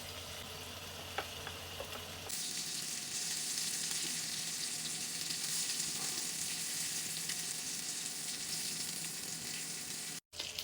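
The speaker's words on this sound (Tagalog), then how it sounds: "Habang nagluluto tayo ng bacon" Bacon fries in a pan for homemade samgyup, a quiet hum giving way after two seconds to a steady, close sizzle that holds evenly to the end with a brief dropout near the finish.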